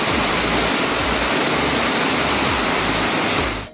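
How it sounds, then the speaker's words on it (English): A waterfall at Eternal Flame Falls in New York pours with a constant, dense rushing roar, loud and unbroken until it cuts off at the very end, with no voices. "There's a waterfall and a fire that just doesn't seem to ever go out."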